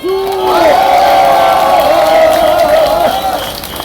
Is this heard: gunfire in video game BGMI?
no